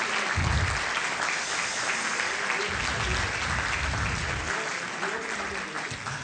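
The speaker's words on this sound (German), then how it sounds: "Bitte nochmal einen Applaus." Audience applause at a German lecture event held in a church hall, broad sustained clapping filling the room at moderate level, with a few low thumps and faint murmur beneath.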